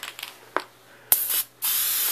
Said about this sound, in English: We're going to take some spray adhesive